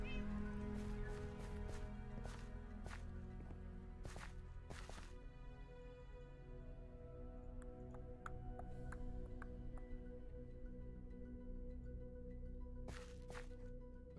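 A cat meows in the Minecraft video game, several short sharp cries scattered through a low steady background hum, with faint clicks in between and no talk.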